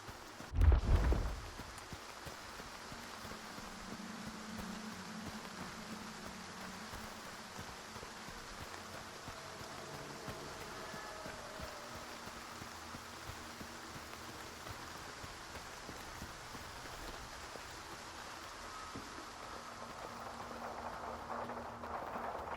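Rain on a tin roof in the video game Stalker 2, a steady soft patter hissing evenly for the whole stretch after a brief louder knock at the very start.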